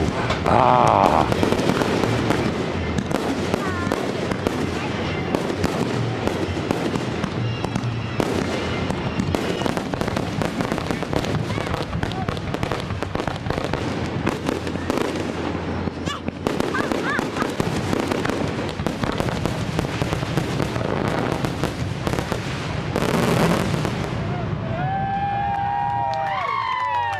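Fireworks crackle and burst across an open field at a July 4 Independence Day celebration, dense popping and booms sustained throughout with a crowd cheering and people talking in the background.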